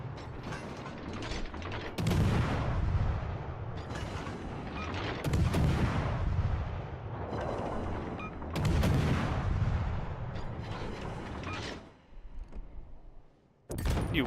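Gunfire from the destroyer Hayate in a naval combat game, several loud sharp salvos at spaced intervals over a constant mechanical rumble and clatter.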